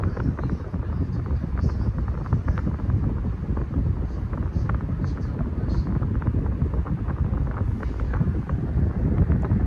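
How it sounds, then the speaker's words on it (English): A vintage 1979-80 Galaxy desk fan runs on high speed without oscillating, giving a steady, loud airy rush with a low rumble throughout. "let's start off with non-oscillation first on high speed or full power"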